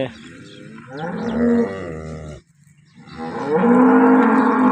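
Two long, deep moos from freshly calved dairy cows, one after another with a brief pause between them, loud and close, in a village in Tharad taluka, Banaskantha district.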